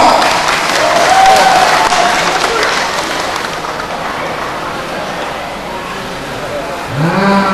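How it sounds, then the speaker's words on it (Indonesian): Crowd applause for a guest introduced at a political campaign dialogue in an indoor futsal hall, a broad steady wash of clapping that thins and fades toward the end. "Tepuk tangan kepada Mampo"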